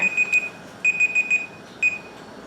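A kitchen timer alarm beeps in short clustered bursts, several quick electronic beeps, a pause, then more, clear and close against a quiet room.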